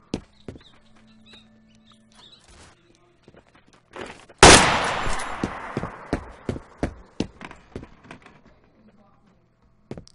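Gunfire in Garry's Mod DarkRP: a loud burst of shots followed by a quick run of sharp repeated cracks, close and fading over several seconds, amid game noise.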